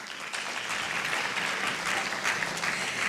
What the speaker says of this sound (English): So please clap for everyone.